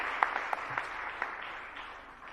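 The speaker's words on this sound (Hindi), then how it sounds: "तो एक बार आप सब जोरदार तालियां अपने लिए बजाइएगा" Audience applause at a religious gathering rings faintly, a thin scattering of claps fading over a couple of seconds.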